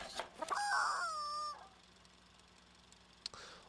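A squeaky rubber chicken toy in a horse-farm video game lets out one long, wavering honk-like squawk with layered overtones, loud and alone, followed by quiet and a faint click near the end.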